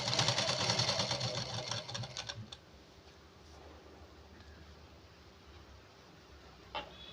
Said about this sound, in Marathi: मी इथे ओव्हरलॉक करणार, त्यामुळे डायरेक्ट जोडून घेणार आहे.